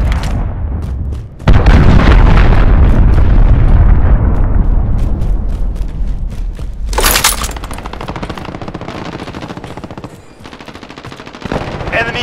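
Cruise missile strikes in Call of Duty: Modern Warfare, a loud sustained roar of explosions and rapid gunfire that booms heavily, crackles on through the middle, briefly drops, then swells again.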